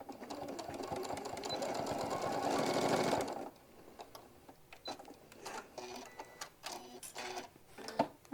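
Sewing machine running a seam on a hobo bag: a continuous, fairly close whir for about three seconds, then stops and gives way to light mechanical clicks and taps.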